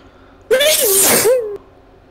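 A single loud sneeze, close and abrupt, with a sharp voiced burst that tails off after about a second, while people are chatting in a casual online card game session.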